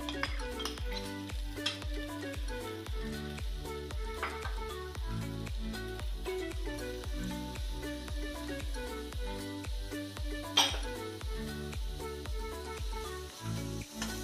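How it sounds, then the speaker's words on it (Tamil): Potatoes, tomatoes and onions fry in a pan, a steady sizzle running throughout with a loud regular rhythmic pattern over it, likely stirring; no one speaks. "இது நல்லா ஃப்ரை ஆகட்டும்."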